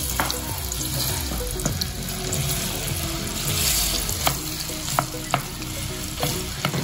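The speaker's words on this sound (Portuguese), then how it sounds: "agora nós vamos esperar a banana fritar, bem fritinha" Banana slices fry in oil inside a clay pot over a wood-fired stove, giving a steady, dense sizzle with occasional sharper pops and crackles throughout, close and unbroken.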